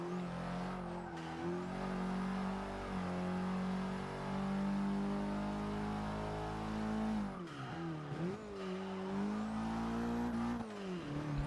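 In Forza Motorsport 6, a hot hatch's engine revs hard through the gears, holding a loud steady drone, dropping sharply with quick upshifts and climbing again, with faint tire squeal.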